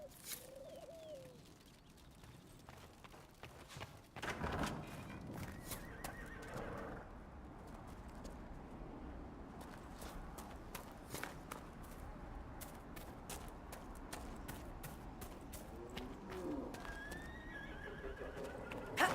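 Chestnut purebred Ferelden Forder horse in the video game Dragon Age: Inquisition, a whinny and hoof clip-clops amid cooing pigeons and birdsong, moderately distant under a quiet outdoor ambience.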